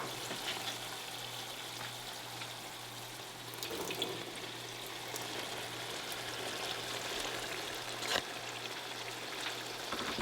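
Kidney beans tumble into a pan of cooked onions, giving a soft, steady watery sizzle and rustle over a low constant hum, with a few brief clatters, moderately quiet and with no talking.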